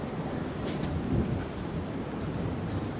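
A big California thunderstorm: steady heavy rain with deep rolling thunder swelling near the middle, loud and continuous throughout with no voices.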